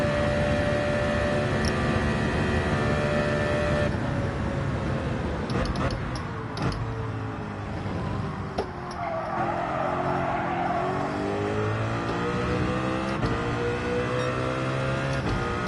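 A race car engine revving in Gran Turismo 7, a loud sustained whine with rising and falling pitch, plus tire squeal and skidding, continuous over the whole stretch.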